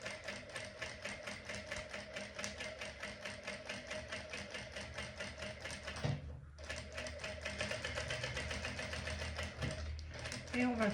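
A sewing machine stitches a seam on a quilted toiletry bag, its needle rattling in a fast even rhythm close by, pausing briefly partway and then resuming, while someone talks under the noise.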